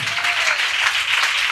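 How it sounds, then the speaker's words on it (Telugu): A church congregation bursts into loud, sustained clapping, a dense wash of many hands throughout a short burst with no voices over it. "బాకీ ఏముంది చప్పట్లు కొట్టడానికి?"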